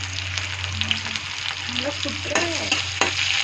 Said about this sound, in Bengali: সুন্দর ভাজা ভাজা করবো।